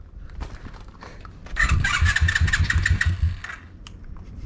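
A motorcycle engine, on a dirt bike freshly fitted with a new tire, is kicked over and catches, its loud close revving burst rising and holding for about two seconds before dropping back.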